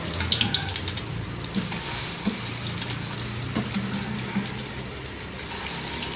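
Chicken shami kebabs frying in a pan give off a dense, bright crackling sizzle, steady and close throughout with faint spattering pops and no talking.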